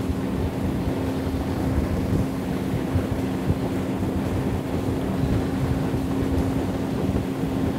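A Berkshire 230E boat runs at full power, a loud continuous engine hum beneath heavy wind buffeting and rushing water, steady throughout with no speech.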